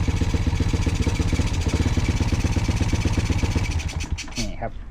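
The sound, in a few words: Honda Wave motorcycle engine revving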